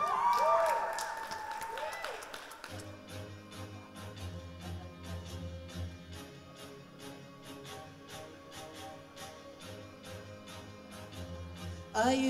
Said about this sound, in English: So give Khansa another round of applause